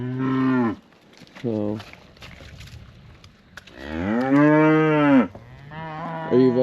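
A heifer moos repeatedly on a farm, several loud, drawn-out harmonic calls at close range with pauses between them, and someone speaks briefly among the calls.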